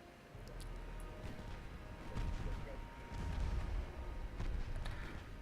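Naval guns, including 3-inch batteries, fire in the warship game Ultimate Admiral Dreadnoughts as a run of deep booms over a steady battle rumble.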